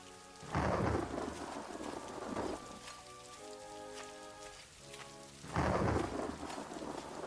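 Heavy rain falls steadily while thunder rumbles in two loud rolling peaks in the fantasy game Daggerfall Unity, with a faint melodic game tone in between and no voices.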